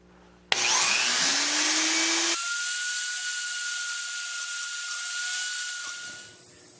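A high-speed power tool whines up and cuts into the body of a Honda Fit to open a hole for a trailer hitch, a loud rising scream that settles into a steady grinding drone before spinning down.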